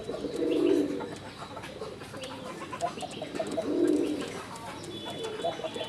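A male Madrasi pigeon coos close by in repeated low rolling phrases, several coos in a steady rhythm with faint background noise.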